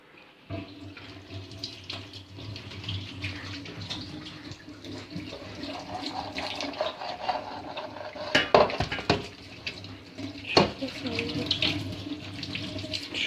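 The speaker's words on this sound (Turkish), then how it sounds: "şimdi ellerimi yıkayayım" Running tap water streams steadily into a kitchen sink as hands are washed, with brief clatters of dishes and splashing near the end.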